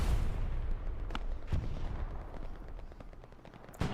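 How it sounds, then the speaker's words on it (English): Scattered gunshots from a pistol and an STG rifle in the video game Hell Let Loose, a few sharp cracks standing out over a low battlefield rumble. "Pistol versus STG."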